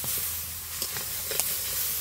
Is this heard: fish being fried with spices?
yes